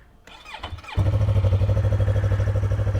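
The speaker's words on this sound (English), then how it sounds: "Let's get this cold start going." A starter cranks briefly, then a beginner motorcycle's engine catches from cold and settles into a loud, steady, throbbing idle close by.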